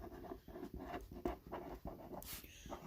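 A marker or chalk writes on a board in short scratchy strokes, close and quiet, repeating in an uneven rhythm.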